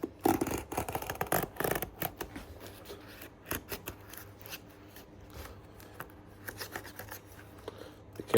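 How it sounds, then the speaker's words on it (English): Snipping and scraping as stitching threads are cut along the sole of a Red Wing Iron Ranger 8111 boot during a resole, a close series of irregular crisp clips and rubbing scratches. "we're just gonna go through and cut the threads"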